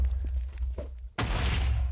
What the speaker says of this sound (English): that's making a larger explosion